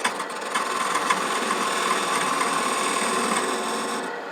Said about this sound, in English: A planing cut with a skew.